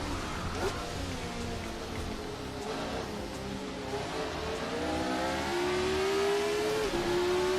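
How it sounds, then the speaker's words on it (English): Retro V8 race car engine in the Assetto Corsa racing game, heard from the cockpit, holding a steady drone and then climbing in pitch as it revs up through the gears. "so I've put the RSS V8 retro car sound on this."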